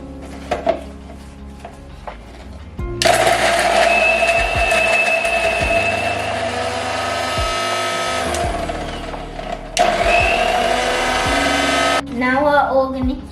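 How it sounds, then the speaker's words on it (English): A kitchen blender grinds a cinnamon stick, onion, garlic cloves and ginger in two loud, steady whirring runs near the microphone, separated by a brief pause, with lighter clatter before and after. "Now we're going to blend these ingredients."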